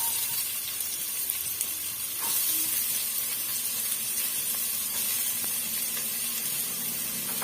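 Onions sauté in a hot pan for a mutton dish, giving a steady, close sizzle and hiss that holds through the whole stretch with slight stirring shifts and no talk.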